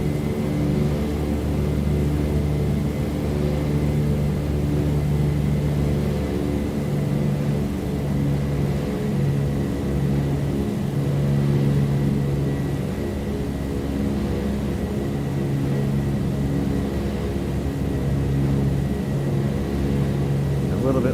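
Steady droning rumble of DC-3 twin piston engines in flight in Microsoft Flight Simulator, with a constant loud hum and low throb holding for the whole stretch; no voices present.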